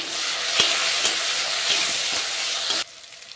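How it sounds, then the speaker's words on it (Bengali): Chopped onions and tomatoes hit hot oil in a pan and fry with a steady, loud sizzle, a few sharp stirring clicks breaking through, before the sizzle cuts off abruptly near the end. "তেলটা গরম হয়ে গেছে, আমি দিয়ে দিচ্ছি পেঁয়াজ কুচি।"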